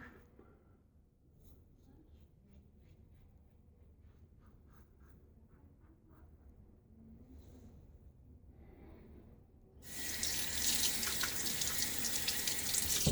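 Tap water runs into a sink to rinse a double-edge razor (Gibbs No 17 with an Astra SP blade) after a shave, starting after quiet scraping and handling and then gushing steadily and loud near the microphone.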